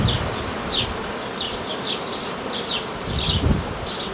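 A honeybee colony at a hobby beekeeper's hive hums with a steady, dense buzzing of many bees close by, with individual bees droning past now and then and no voices.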